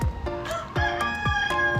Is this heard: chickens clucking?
yes